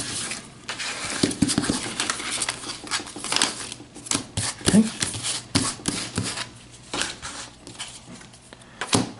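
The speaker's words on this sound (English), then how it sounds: "Shuffle." A hand of playing cards is shuffled one-handed during a Legendary card game, giving a few quick papery riffles and soft taps up close in short bursts, with intermittent talking around them.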